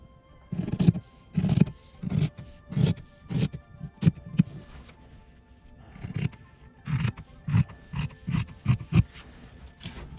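Close, crisp scissor snips cut around fabric pieces, falling in uneven clusters of repeated strokes with short pauses between them. The snipping stands alone with no talking.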